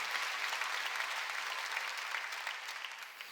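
Sustained applause from a church congregation during a Sunday worship service, dense steady clapping that carries evenly through and tapers slightly toward the end.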